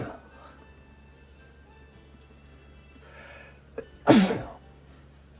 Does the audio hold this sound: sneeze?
yes